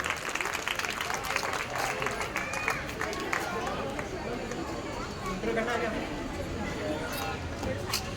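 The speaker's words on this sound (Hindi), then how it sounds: "जोरदार तालियां बजाइए" Audience applause after an Independence Day speech by Saiyam Jain: a steady, dense wash of clapping from a crowd, sustained at even loudness throughout with a murmur of voices mixed in.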